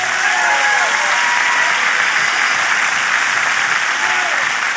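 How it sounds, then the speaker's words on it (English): A church congregation applauds during a sermon, a dense, steady roar of hand claps from a large crowd that holds at full volume throughout. "Now clap your hands if you want to live that way."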